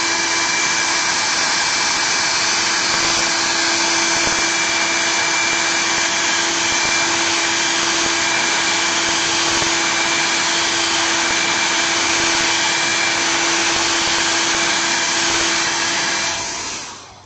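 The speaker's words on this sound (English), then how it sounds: "I will use a hair dryer to speed the process" A hair dryer runs continuously and loudly at close range with a steady whine, drying paint on a miniature scenery base, then cuts off at the very end.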